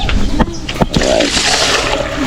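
Water pours and splashes into a container, a loud close gush with a few sharp clunks early on and a muffled voice underneath.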